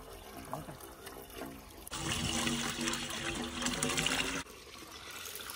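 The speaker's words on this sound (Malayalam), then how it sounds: "നമ്മുടെ മോട്ടറിനകത്ത് വെള്ളം നിറച്ചോണ്ടിരിക്കാണ് കേട്ടോ." Water pours steadily into a motor pump for a few seconds at a pond, a loud continuous gushing that starts and stops abruptly, with quieter trickling before and after.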